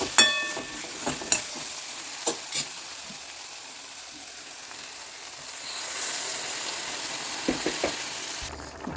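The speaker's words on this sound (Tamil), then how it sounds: "இப்போ நம்மளோட குழம்பு வந்து நல்லா ஜோராக கொதிச்சிட்ருக்கு" Tamarind kuzhambu curry with onion and garlic bubbling in a pan, a soft steady simmering hiss with scattered pops and spoon clinks near the start and end.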